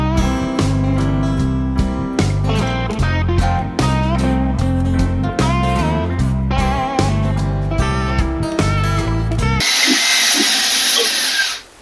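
A power drill spins extension rods up a dryer duct to clean it, whirring loud and close in uneven bursts with shifting pitch and short pauses, then ends in a harsh rushing hiss before cutting off.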